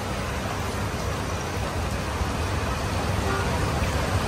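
Steady rain comes down around a vada pav street food stall in Seawoods, a constant broadband hiss with faint traffic mixed in and no talking.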